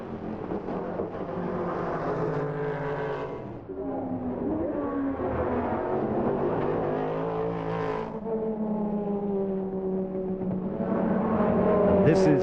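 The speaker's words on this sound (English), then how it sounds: "Mercedes makes a wonderful sort of American V8 type noise, not the sort of Germanic shrill noise you'd expect, and thunders across the start-finish line" A Mercedes race car at Le Mans 1999 qualifying roars with a deep V8-like engine note, sustained and loud as it thunders across the start-finish line, with engine pitch swelling and falling under a commentator's voice.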